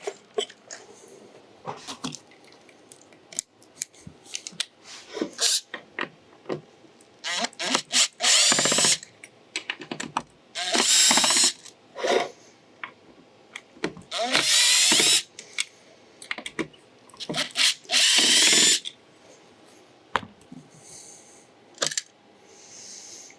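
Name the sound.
power drill removing module from Ford Explorer touch screen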